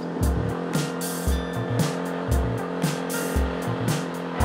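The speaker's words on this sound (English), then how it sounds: "Loaded Irwin's bike in Kiddo's trusty tuk-tuk and went up the hills" A tuk-tuk climbs hills with a loud, chugging small-engine drone that pulses in regular bursts, close to the listener with wind and road noise.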